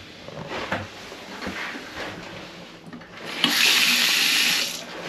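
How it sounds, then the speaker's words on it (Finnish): Tap water runs into a bathroom sink in a ship's cabin, starting with faint trickles and splashes, then a steady, louder gush for a little over a second before easing off. "Vettä tulee ja menee."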